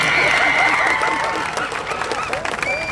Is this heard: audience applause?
yes